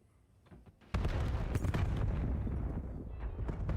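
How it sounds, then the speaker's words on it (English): Grenade blasts in a Call of Duty match: a loud, dense burst of explosions erupts after a brief quieter lead-in and rumbles on continuously. "All nades hitting mid."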